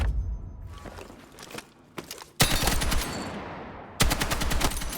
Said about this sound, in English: Yeah, I really like using the 240L